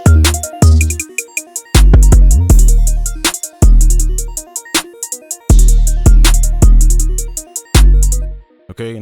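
A trap-style beat melody built in FL Studio 24 plays through once: punchy bell-like notes with heavy booming bass hits in a steady, syncopated pattern, loud and without any voice.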